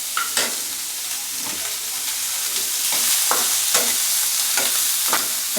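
Finely chopped green onions stir-fry in a hot pan, a continuous bright sizzle broken by regular scraping strokes of a spatula, close and fairly loud, with no voices.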